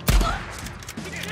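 Gunfire in the video game Days Gone, with a loud opening shot followed by a rapid string of further shots set against a busy game soundscape.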